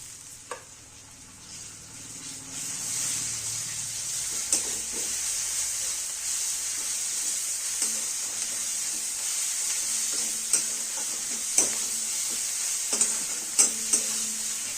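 Chopped coriander and garlic sizzling in hot oil with turmeric in a pan, a steady frying hiss broken by repeated scraping stirs of a spoon, close and moderately quiet.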